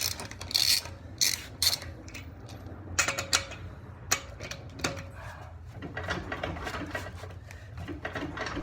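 Lug nuts being tightened on a Civic's front wheel, heard as irregular ratcheting clicks and short metallic bursts over a steady low background hum.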